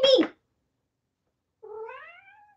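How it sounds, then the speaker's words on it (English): A house cat meowing indoors, a short sharp meow at the start, then a pause of silence and a longer, drawn-out falling meow, close and clear with no other sound. "This cat."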